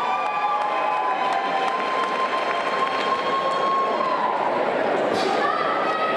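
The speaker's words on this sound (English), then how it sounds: "how about a big round of applause for his opponent" Crowd applause and cheering for a fighter after a guillotine-choke tap-out at a combat sports event, a broad steady roar that holds throughout, with an announcer's voice over it.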